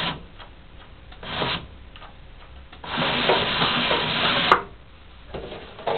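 A Vacuumatic TCF friction feeder counts wood veneer samples, making a soft rhythmic ticking and rubbing, then a longer burst of scraping friction noise ending in a sharp click, close by with no talking.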